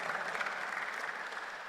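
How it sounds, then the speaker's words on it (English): Audience clapping at a science and technology festival opening ceremony, a steady dense wash of applause from a sizeable crowd holding even throughout the short stretch. "let's acknowledge her with a clap offering"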